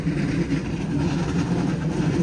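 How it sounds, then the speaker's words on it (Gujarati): A train rolls past outdoors in a busy public park area, a steady low rumble and hum with faint rail clatter, moderately loud and continuous, with no talking. "ટ્રેન જાય છે,"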